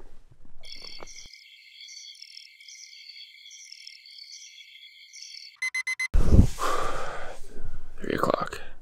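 An electronic alarm at a lakeside campsite in the early morning beeps in a steady repeating pattern for several seconds, then cuts off with rustling and handling noise.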